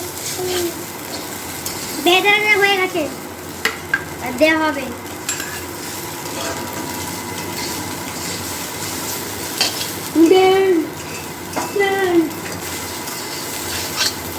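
Egg being stir-fried together with pasta in a pan, a continuous sizzle with stirring scrapes, while a voice speaks in short bursts over it.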